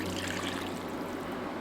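Water poured into a pot of rice, a steady, faint, continuous pouring and trickling that lasts the whole short stretch with no talk.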